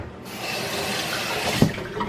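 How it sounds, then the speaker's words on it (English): Tap water runs steadily into a sink as hands are rinsed beneath it, a continuous close splashing wash with a brief louder splash near the end and no talking. "Let me rinse my hands."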